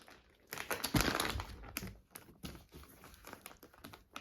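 A huge plastic bag is crinkled and squeezed to push the air out, giving close, loud bursts of crackling and rustling with a dense flurry early on and sporadic crinkles after.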